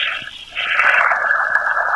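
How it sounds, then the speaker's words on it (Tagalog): A shower runs inside a house in the Roblox game Brookhaven, a steady hiss of spraying water that swells louder after a short softer start and continues evenly. "Ito yung shower nila"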